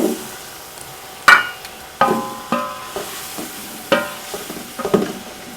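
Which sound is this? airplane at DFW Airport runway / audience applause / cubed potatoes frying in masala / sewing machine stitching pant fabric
cubed potatoes frying in masala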